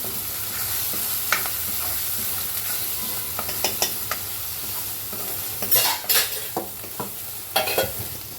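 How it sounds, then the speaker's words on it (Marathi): A homemade spice paste stirred and sautéed in a pan for a home-cooked meal, with a steady low sizzle and scattered scraping stirs and utensil clicks, louder bursts of stirring near the end, no talking. "तर आता हे वाटण चांगलं परतून घ्यायचं"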